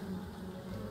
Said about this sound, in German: Ich versuche jetzt gerade den Bienen aus dem Weg zu gehen.